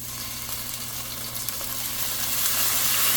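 Sofrito sizzling in a thin layer of oil in a pot, a steady, close, dense hiss that grows slightly louder and brighter, with no talking.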